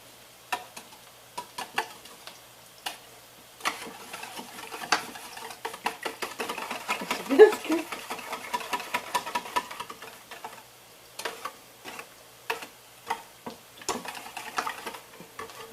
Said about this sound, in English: I'm just going to whisk these up, these eggs.